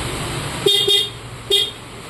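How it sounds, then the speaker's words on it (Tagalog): A stock Yamaha NMAX 2024 motorcycle horn beeps three times in short toots, the first two close together and the third after a pause, over a steady engine idle. "Tapos stock horn."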